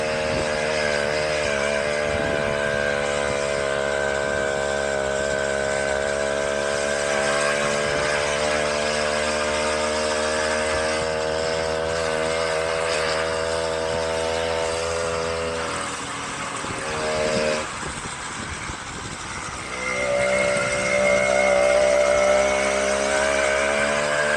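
A 1968 Clark Scamp 49cc two-stroke moped engine hums at a steady, buzzy idle, dips and sputters for a few seconds, then revs up slightly louder.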